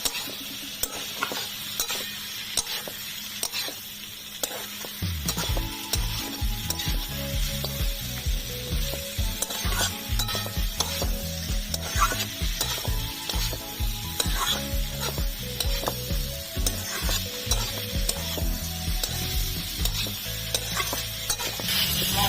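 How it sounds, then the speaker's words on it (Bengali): Fried potatoes and yardlong beans are stirred into a spicy masala in a pan: after a quieter sizzling start, a spoon scrapes in a busy rhythmic clatter over constant frying hiss, close and loud. "ভেজে রাখা আলু আর বরবটি দিয়ে দিলাম মশলার সাথে ভালো করে মিশিয়ে নেবো"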